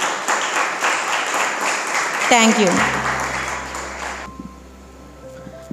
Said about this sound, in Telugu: ఒక్కసారి వాళ్ళకి క్లాప్స్ కొట్టండి